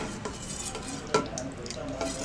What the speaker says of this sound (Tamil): இதில் நம்ம அரைச்சி வச்ச பொடியை நம்ம கலக்கிடலாம்